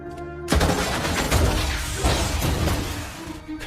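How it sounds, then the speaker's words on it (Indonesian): Gunshots fire in a Korean film scene, a loud, dense burst of gunfire with crashing and shattering effects that lasts several seconds. "Saat akan dihapus, Kang In menembakkan senjatanya"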